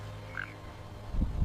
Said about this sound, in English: her words croaking from the mouths of frogs by the well